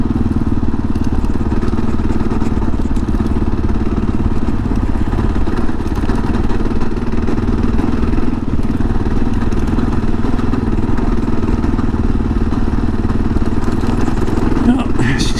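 A 2022 Kawasaki KLR650 ridden over washboard dirt, a loud constant engine drone with rapid rattling clatter and thumps from the corrugated surface, close and steady throughout.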